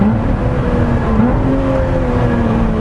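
A 2017 Lotus Exige Cup 430 engine drones loudly and steadily from inside the car, holding a sustained rev with slight pitch shifts.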